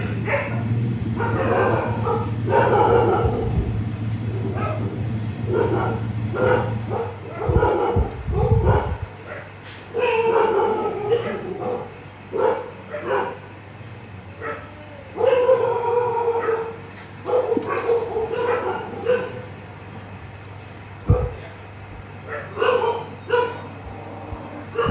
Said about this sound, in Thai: เอ้ย ไม่ต้องไปเห่ากับเขาหรอก